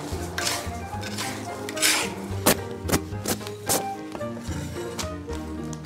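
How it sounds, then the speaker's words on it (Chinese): Salt and spices are stir-fried in a wok in a home kitchen, making a run of metallic scrapes and clinks from the spatula at an uneven rhythm, close and moderately loud. "再翻炒一下"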